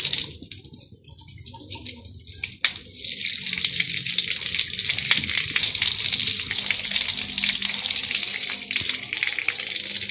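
Steady loud gush of water pouring from a 12V 1100GPH bilge pump run on two solar panels with no battery, a continuous close rushing flow that holds constant throughout.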